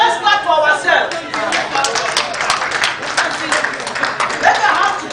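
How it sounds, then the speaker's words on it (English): Health workers gathered at a Lagos State event clap together, a close, lively patter of many hands with cheering voices and chatter mixed in over several seconds. "So let's clap for ourselves."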